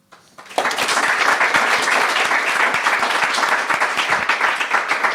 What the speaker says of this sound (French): J'aimerais un tonnerre d'applaudissements pour Denis, Thomas et Maxime.